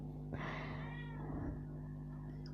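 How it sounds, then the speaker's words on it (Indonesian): A pet cat named Peta gives one drawn-out meow, close and clear over a low steady electrical hum, trailing off into quiet. "Kalau kalian dengar suara kucing, itu kucing aku namanya Peta."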